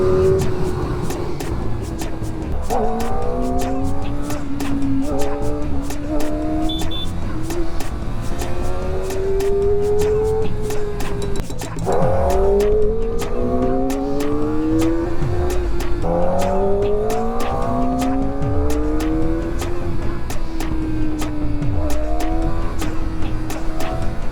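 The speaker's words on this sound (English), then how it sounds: "The power and symphony of the engine keeps you entertained at higher revs." A Kawasaki ZX4R motorcycle engine screams at high revs in traffic, climbing through repeated upshifts with brief dips between gears, loud and continuous throughout.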